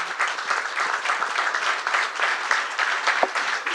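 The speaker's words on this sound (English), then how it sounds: "can we get a round of applause for him real quick?" Audience applause at a student panel on responding to racism, steady dense clapping from a crowd filling the whole stretch with no voices on top.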